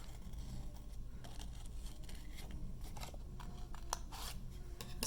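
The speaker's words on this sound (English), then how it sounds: "And now I can cut this out." Scissors snip through paper while a pumpkin cutout is made, a steady series of close, crisp cutting crunches running throughout with no talk.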